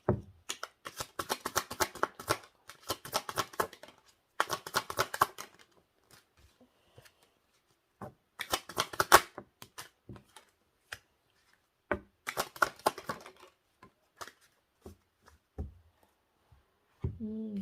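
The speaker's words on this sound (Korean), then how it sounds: "추가 카드 잠깐 뽑아볼게요." Tarot cards being shuffled and drawn from the deck for a monthly fortune reading: bursts of quick riffling flutters separated by short pauses and a few single soft card slaps, close and moderately quiet, with no talking.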